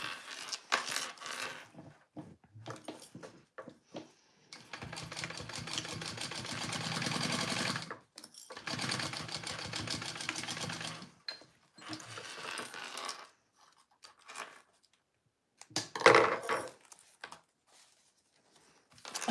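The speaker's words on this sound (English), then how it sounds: "I'm just basting these sides shut" A sewing machine bastes the sides of a bag shut, running in two long steady stitching bursts with short pauses between, followed by quieter starts and a sharp clatter near the end.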